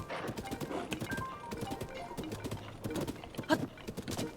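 Horse hooves clip-clop steadily on the ground in Zelda: Tears of the Kingdom, a quick continuous rhythm of close hoofbeats mixed with game ambience and brief faint sounds.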